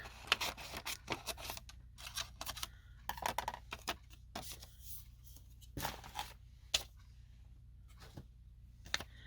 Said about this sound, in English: And then we're just going to cut out our piece to fit our character.